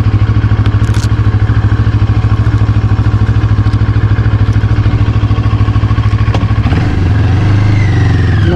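A CFMOTO NK motorcycle engine runs in a steady, rapidly pulsing loud drone close by, then shifts pitch near the end as it revs and pulls away.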